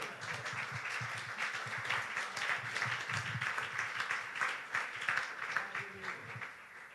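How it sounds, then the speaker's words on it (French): A church congregation claps and cheers in praise of the King of Kings, a steady wash of applause with rhythmic clapping and raised voices that keeps going. "Est-ce qu'on peut acclamer le roi des rois?"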